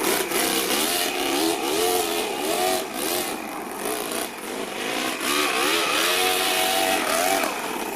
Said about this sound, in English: it's probably because it just doesn't rev too high, this motor